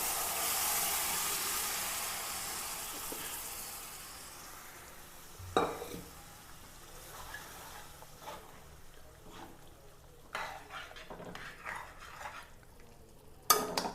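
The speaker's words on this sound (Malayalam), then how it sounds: "അതിലേക്ക് ഇറച്ചി വേവിച്ച് വെച്ചിരിക്കുന്ന ഇറച്ചി ഇട്ട് കൊടുക്കാം" Cooked beef goes into fried masala paste in a pan and gets stirred, giving a soft sizzle and scraping with a few sharp clinks of a utensil against the pan, close and fairly quiet.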